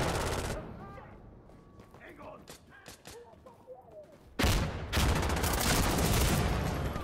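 Gunfire in the tactical shooter game Insurgency Sandstorm: a loud burst of rapid automatic shots opens, fades into a quieter stretch with distant pops and faint voices, then heavy sustained firing returns close and loud to the end.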